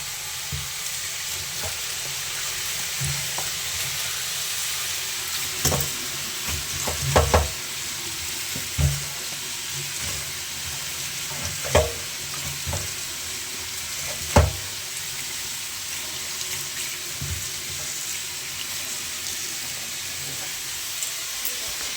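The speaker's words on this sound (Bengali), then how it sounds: "বেশ 2 মিনিট মতন হয়ে গেল, বেশ ভাজলাম এটাকে।" Food fries in a pan with a continuous soft sizzle, broken by intermittent scrapes and knocks of a utensil stirring, heard close.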